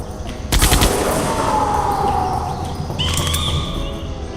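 Gunfire in the video game Jurassic Park: The Game, a loud sudden volley that begins half a second in and is followed by a dense, sustained roar and rumble with a rising tone near the end, no talking.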